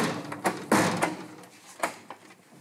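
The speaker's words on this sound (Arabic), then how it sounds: "خبط يا ابني وخلص" Someone knocks on a house door, giving a few irregular thumps and raps at moderate volume with pauses between them and little else around.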